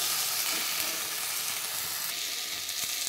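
Garlic, chili and tomato fry lightly in hot oil with a steady, close, bright sizzle and hiss that runs on without pause.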